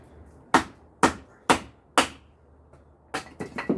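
A Cold Steel SR1 folding knife is batoned through wood: four evenly spaced, sharp, hard knocks, a short pause, then a quicker cluster of lighter strikes, close and clear over near-silence.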